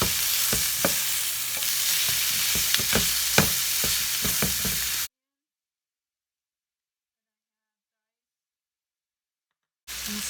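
Sausage fries in a pan with a continuous sizzle and repeated scraping stirs for about five seconds, then the sound stops abruptly and silence follows.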